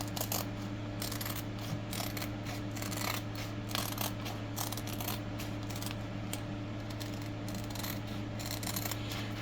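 Scissors snip repeatedly through paper in a quick, irregular rhythm, close and fairly quiet, over a low steady hum.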